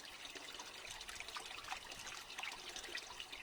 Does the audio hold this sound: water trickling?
yes